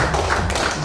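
Applause from the audience at an annual community meeting in Caturharjo village, a short burst of steady clapping from a crowd.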